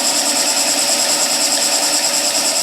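A skew chisel cuts wood on a lathe in a steady, loud, continuous whir with a bright hiss and no pauses.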